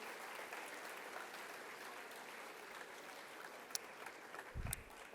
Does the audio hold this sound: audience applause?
yes